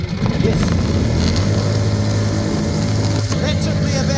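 Outboard boat motor running after a long struggle to pull-start it, a steady droning hum held close and loud from start to finish, with wind and the odd bump over it.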